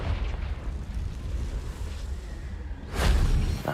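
A Confringo fire spell from Hogwarts Legacy bursts into a loud, broad explosive whoosh near the end, following a stretch of steady low game ambience.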